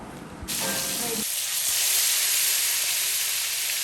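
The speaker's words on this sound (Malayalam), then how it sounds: "അവിടെ ചിക്കൻ താഴെ ഫ്രൈ ചെയ്യുന്നുണ്ട്" Chicken frying in a pan for a home-cooked chicken rice, a steady loud hiss and sizzle that swells after a short quieter start, with faint voices beneath.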